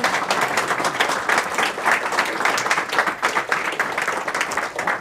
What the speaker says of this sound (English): That was great. Round of applause.